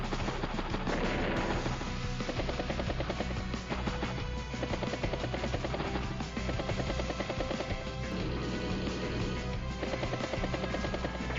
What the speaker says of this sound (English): Battlecopter gets a good shot there.